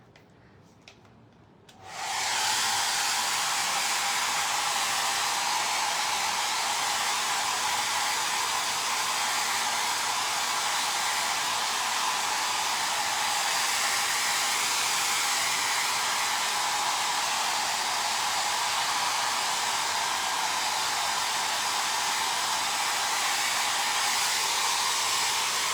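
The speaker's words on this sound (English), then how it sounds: "I'm gonna hit him with the blow dryer." A blow dryer switches on after a brief quiet start and runs steadily and loudly for the rest of the stretch, a constant close whoosh with no talk over it, used to dry off an animal.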